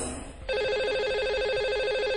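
A telephone rings as a call is placed to a radio show caller, a rapid warbling electronic ring that starts abruptly after a brief murmur and repeats steadily and loudly.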